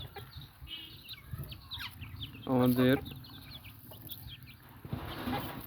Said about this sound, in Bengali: প্রত্যেকটা মুরগি খাবার দিচ্ছি তারা সুন্দরভাবে খাবার খাচ্ছে দেশি মুরগি